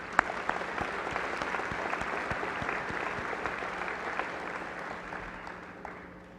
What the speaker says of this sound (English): I wanted to extend another round of applause